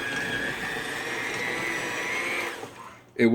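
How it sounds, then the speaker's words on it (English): An electric hand mixer whirs steadily through almond flour pizza dough, a loud, even motor drone with a high tone that cuts off near the end before a brief clatter. "Now I'm just going to get hand mixer out"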